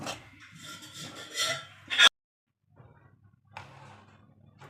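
Besan stirred and scraped while roasting in ghee in a pan, a close rubbing rasp for about two seconds, then silence and softer intermittent scraping.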